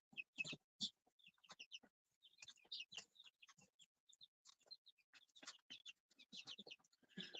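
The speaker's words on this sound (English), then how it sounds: "Chickens, chicks." A busy flock of chickens and chicks clucking and chirping, with steady overlapping calls of varied pitch and no pauses.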